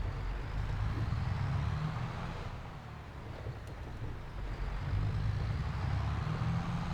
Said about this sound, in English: you can hear the engine sound bouncing off the walls inside the buildings, kind of like bouncing back down at you